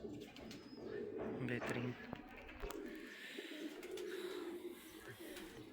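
Pigeons coo continuously inside a loft, a low murmuring warble under a steady bed of bird calls, with a brief spoken word from a man nearby.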